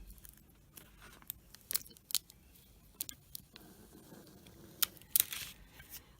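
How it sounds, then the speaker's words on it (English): Self-adhesive vinyl has transfer tape peeled back from it after burnishing with a scraper, giving quiet, close crackles and sticky ticking snaps that come in scattered bursts against a hushed background. "I'm just going to burnish over again with the scraper and peel back the transfer tape"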